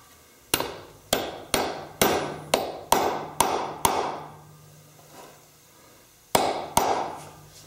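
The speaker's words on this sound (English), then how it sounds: "I don't usually like using a sledgehammer for that." A sledgehammer taps a potpourri dish being turned, giving about a dozen sharp, ringing knocks close up in a quick uneven series, then a short pause and a final pair of strikes.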